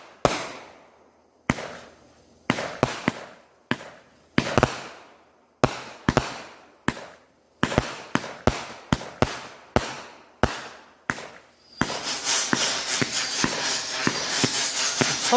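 Backyard fireworks shots going off one after another, a string of sharp loud bangs with short gaps, then a denser crackling burst of rapid pops and hiss toward the end.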